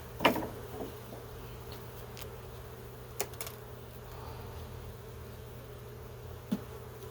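Honey bees hum faintly and steadily during a late-winter beehive check, with a few light clicks and taps over the drone and no talking.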